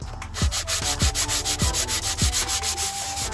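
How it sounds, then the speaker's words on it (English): Brand-new 320 grit sandpaper on a sanding block rubs across the deck of a GM 3400 SFI 3.4-litre V6 engine block, steady rhythmic back-and-forth strokes, close and fairly loud, with no talk. "take some 320 grit sandpaper, a brand new sheet on a block, and you're just gonna sand this like this"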